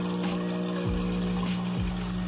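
An aquarium sump holding Kaldnes biological filter media churns with falling water and air-pump bubbling, a steady close wash of flow and low hum with a few deeper gurgling swells repeating throughout.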